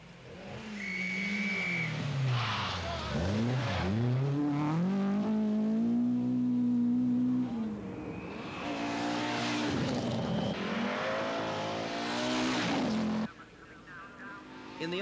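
Rally cars lap the Oulton Park racing circuit in Cheshire, with loud engine roars rising and falling in pitch as cars pass, accelerate and brake, under a commentator's voice.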